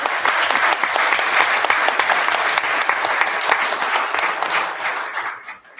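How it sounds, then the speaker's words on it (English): Audience at a village board meeting giving a round of applause, a loud, even clatter of many hands that holds steady and then tapers off at the close. "So can we give him a round of applause as well?"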